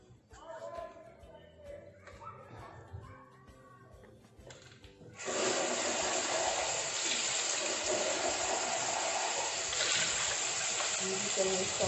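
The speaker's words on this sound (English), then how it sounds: "we can use the running water to clean this" Tap water runs steadily and loudly as a part of a Dyson V6 cordless vacuum cleaner is rinsed under it, after a few seconds of quieter handling noise and a voice speaking.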